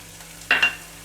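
A brief sizzling hiss from gram flour (besan) added to lightly cooked onions frying in a pan, a short two-part burst that rises suddenly and fades within half a second.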